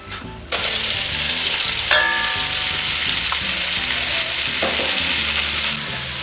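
Langoustine tails frying in hot oil in a pan give a loud, steady, close sizzle that jumps up as they go in, with faint stirring scrapes underneath.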